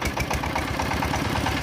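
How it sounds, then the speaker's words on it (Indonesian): Diesel engine on a mobile rice milling machine, running with a steady, rough idle. The firing pulses are even and close, with a slightly uneven, hesitant chug, and no talk over the running engine. "itu terus jadi solar itu telat turunnya, jadi agak ngendat gitu suaranya"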